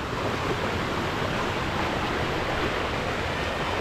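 Dense, continuous rushing of a flooding river, loud and close, with no voices.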